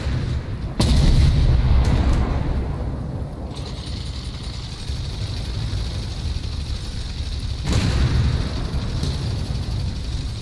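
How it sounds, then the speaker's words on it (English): A tank blows up in the online tank game Armored Warfare, a deep booming blast near the start that rolls into a long rumbling roar, with a second heavy burst a few seconds later amid ongoing battle noise. "tank that just exploded"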